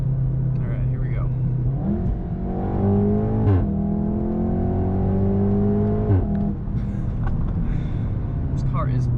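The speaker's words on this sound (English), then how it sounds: "Remus, you have done a very good job with this exhaust" A Mk7.5 Volkswagen Golf R with a Remus valved catback exhaust revs and climbs through the gears, its exhaust note rising and dropping in repeated pulls, with talking over the engine.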